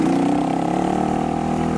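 AOneCool enduro motorcycle engine revving steadily through a drifting turn, a loud, close, continuous mid-pitched drone with no talk over it.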